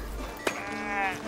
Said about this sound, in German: Schafe ziehen übers Land.